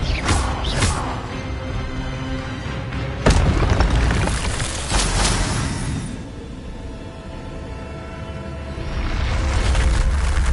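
Repeated booming fire-spell blasts in Hogwarts Legacy, a sharp burst near 3 seconds among several rumbling explosions and crackling magical effects, loud and close with no talking.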